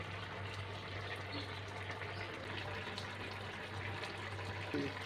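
A pot of rice and water for kuska pulao boils on the stove, producing a faint, steady bubbling hiss that stays even throughout with no talking.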